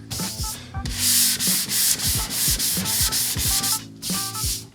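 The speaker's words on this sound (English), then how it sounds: "So a little bit of more sanding" Sandpaper is rubbed back and forth over the primer edge on a rusty Mercedes tow truck's bodywork, making loud rhythmic scratchy strokes with steady repetition and no talking.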